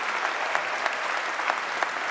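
Studio audience at the 2019 Juno Songwriters' Circle claps steadily after a song, a dense even wash of applause with scattered louder hand claps and no talk over it.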